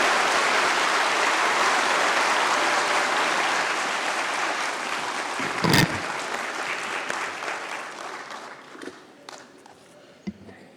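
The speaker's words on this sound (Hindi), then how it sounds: "तालियों से करें स्वागत माननीय प्रधानमंत्री जी का" Hall audience applauding to welcome the Prime Minister at Vigyan Bhavan, dense loud clapping that gradually thins and fades to scattered claps, with a knock partway through.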